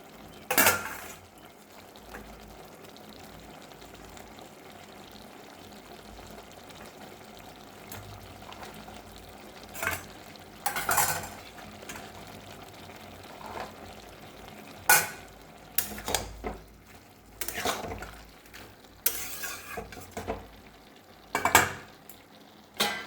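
Cauliflower florets cooking in a pan of spinach curry, a low sizzle running throughout, with occasional louder scraping bursts of a spoon stirring against the pan, mostly toward the end.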